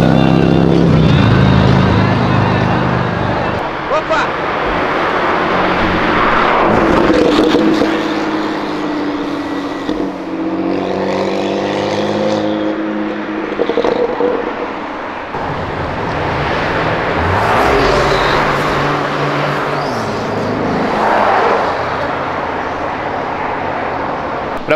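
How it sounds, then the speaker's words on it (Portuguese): A Porsche sports car roars loudly as it accelerates past, the engine note rising and swelling in waves, with a short, faint voice underneath. "eu só ouvi o ronco da Porsche, vai acelerar"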